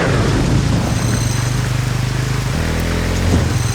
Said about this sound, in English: Is it going to rain today? High chance of rain.